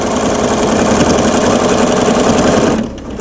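A sewing machine stitches a quilt in continuous free-motion passes, a loud close steady whirring buzz that runs unbroken for nearly three seconds before easing off at the end.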